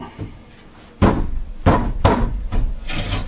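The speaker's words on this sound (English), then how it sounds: "I just cut some more wood off." Several sharp wooden knocks and rasping cuts in quick succession, close and fairly loud, as wood is sawn or trimmed; no voices.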